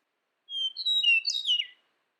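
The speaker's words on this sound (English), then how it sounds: "the eastern meadowlark answered for him." An eastern meadowlark sings one clear, slurred whistled phrase of several descending and overlapping notes, close and alone against silence, lasting just over a second.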